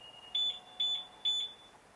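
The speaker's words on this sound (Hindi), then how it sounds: "ये बेसिकली आपका फाइंडर है कि आपका गाड़ी कहाँ पे है, पार्किंग में कहाँ पे लगा है, तो उसके लिए बीप करने के लिए है" A Dao EV 703 electric scooter's finder sounds three short, high electronic beeps at an even pace, clear and close over a faint background hum.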